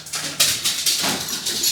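A dog whimpers and whines in short, high, repeated bursts at close range, set in a home kitchen during a pastry and decorating session, with no talk over it.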